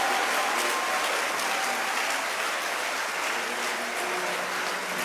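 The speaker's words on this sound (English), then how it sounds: "A round of applause for the parents." Steady applause from an audience at a school distinction awards ceremony honouring a student's parents, continuous dense clapping filling the room for the whole stretch with no voices on top.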